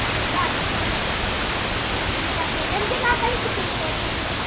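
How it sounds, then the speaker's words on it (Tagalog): Amatong Falls rushes in a dense, steady roar of falling water, loud and close with no breaks. "Yan mga kabady yung sinasabi kong falls dito."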